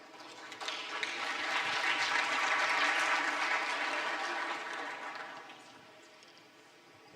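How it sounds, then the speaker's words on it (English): An audience at a business forum claps for a poet, a broad steady wash of applause that swells to a peak midway, holds, then tapers off near the end. "please join me in giving a powerful round of applause to Mr."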